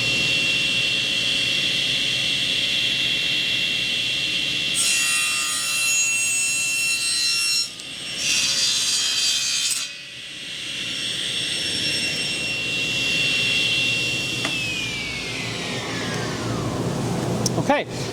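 A miter saw trims a miter cut in wood, a steady high whine from the spinning blade with two louder bursts of cutting in the middle before the motor winds down near the end, close up.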